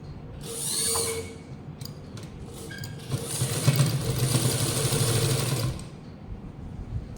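A sewing machine stitches along a flatly folded fabric edge for a side slit, first in a short burst, then in a steady, close, moderately loud run of several seconds before stopping.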